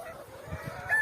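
Farm chickens clucking while being fed bread on a muddy farm, a quick string of close clucks with a brighter squawk near the end.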